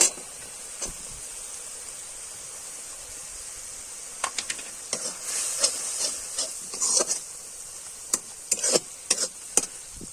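Tomato goes into spices frying in oil for village-style ghugni, giving a steady bright sizzle with a burst of louder crackles and stirring scrapes in the second half, close and alone without talk.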